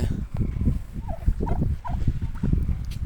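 Turkeys gobble repeatedly over a loud, busy outdoor background of rumbling noise, several warbling calls close together.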